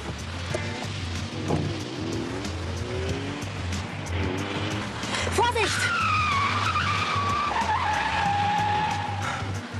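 A car driving fast with tyres skidding and squealing, a rising high-pitched screech over a steady engine roar, close and loud, with a voice talking beneath.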